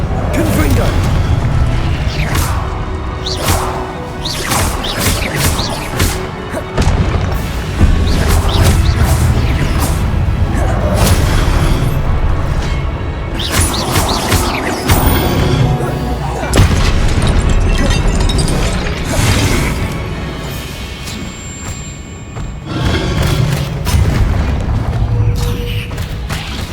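Confringo blasting spells in Hogwarts Legacy, a rapid series of loud booms and crackling bursts going off repeatedly across a long stretch of spellcasting combat, with voices shouting spell names over them.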